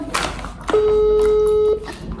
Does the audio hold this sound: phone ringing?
yes